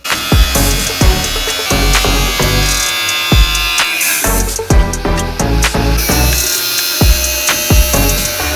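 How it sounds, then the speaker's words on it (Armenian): An angle grinder cuts material at a home construction site, a loud continuous whine with repeated sharp knocks and bursts as the disc bites, close up and without voices. "բալգարկայով ինչ որ բան ա կտրում"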